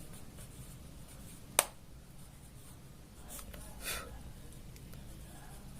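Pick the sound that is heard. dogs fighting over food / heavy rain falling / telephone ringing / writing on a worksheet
writing on a worksheet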